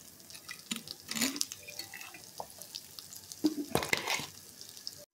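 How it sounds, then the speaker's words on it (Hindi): Water runs from a tap into a cooking pot while carrot halwa with sugar, fried carrots and raisins is prepared, giving two short bursts of splashing, trickling flow with quiet gaps between them and no talking. "पानी शामिल करेंगे,"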